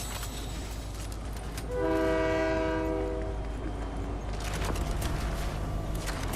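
A train in a video game passes with a loud, sustained horn blast of about a second and a half over a steady rumble of rolling wheels, the rumble continuing after the horn stops.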